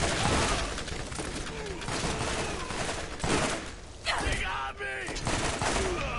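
Gunfire and fireworks in the video game Borderlands, a dense, loud barrage of rapid overlapping bursts and pops that rolls on continuously.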